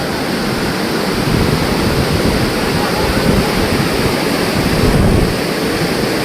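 A huge waterfall about 300 meters high at Manche in Devgad roars as a dense, steady broadband rush, loud and continuous throughout with no voices.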